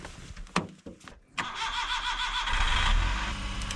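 A Kei truck engine starting in freezing cold weather: a few clicks and a short crank, then the engine catches and settles into a steady, close idle.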